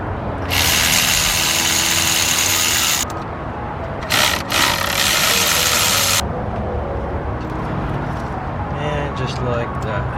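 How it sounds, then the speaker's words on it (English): A power tool whirs in bursts while removing spark plugs from a Lexus LS430 engine, two loud high-pitched runs separated by a short pause, over a low mechanical background. "Now let's go ahead and remove the spark plugs."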